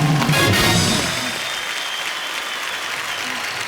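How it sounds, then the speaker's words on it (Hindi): A television studio audience applauds at a comedy show, with loud dense clapping that fades to a lower level after about a second and continues steadily to the end. "एक बार तालियां बजती रहें।"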